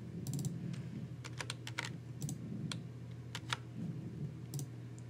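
Keyboard shortcuts (Control A, Control C, Control V) are pressed on a computer keyboard in irregular clusters of crisp, close keystrokes, with mouse-like clicks mixed in and no voices.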